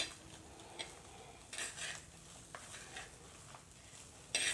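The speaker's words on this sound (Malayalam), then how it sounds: "അപ്പോൾ അടിയിലൊന്നും പിടിക്കാതെ നന്നായിട്ട് ഇളക്കി എടുത്തുകൊണ്ടേയിരിക്കണം." Grated coconut being stirred while dry-roasting in a pan for coconut chutney powder, heard as quiet scraping and clinking of a utensil against the pan in intermittent strokes.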